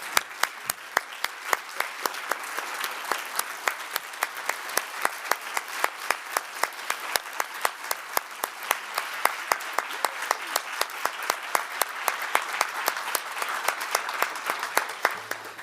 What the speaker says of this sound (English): please a round of applause for Indigo Bishop, Kayla Griffin Green, Chinenye Nkemere, and Bethany Studenic